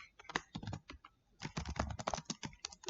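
Rapid clicking of a computer keyboard being typed on, bursts of keystrokes with a short pause in the middle, close and clear.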